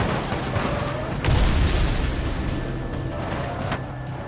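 Heavy booms and blasts from explosives hurled onto escort trucks in the BeamNG driving game, several dense thuds with one louder burst, over a constant rumbling background.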